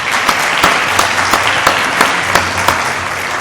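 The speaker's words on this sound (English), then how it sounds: "Let's give these girls a round of applause" Loud, close applause from a pageant audience for contestants after a professional wear competition, dense steady clapping with distinct individual claps popping through.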